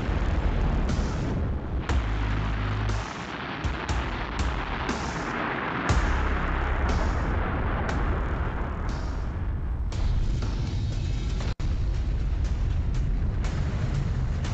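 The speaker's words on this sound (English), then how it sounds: "Riding aboard the Long March 5 carrier rocket," China's Long March 5 carrier rocket lifting off on a Moon mission, a loud, continuous broadband roar with crackling bursts that stays intense and unbroken throughout.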